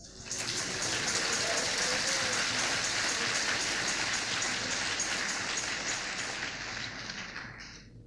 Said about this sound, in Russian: Дайте Богу аплодисмент.